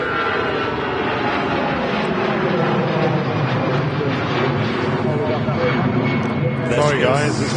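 Airbus A320 jet taking off from Manchester Airport bound for Amsterdam, a loud sustained engine roar swelling steadily with a rising whine near the end, heard under occasional talk.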